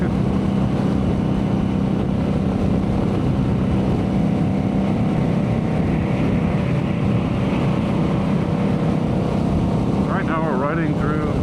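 Steady, loud engine and wind roar of a Mini motorcycle cruising at highway speed through south Irvine, with continuous rushing noise throughout.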